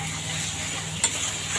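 Mutton being stirred and roasted in a pan over medium heat for mutton kosha, giving a low steady sizzle under a faint continuous hum, with one brief spoon scrape or clink partway through and no speech.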